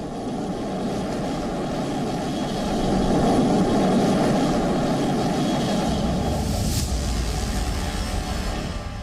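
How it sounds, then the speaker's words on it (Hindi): A fifth-generation American fighter jet flies overhead, giving a steady broad engine roar that swells slightly midway and stays loud throughout, with no voices. "यही है अमेरिका की 5वीं पीढ़ी का एडवांस किलर जेट,"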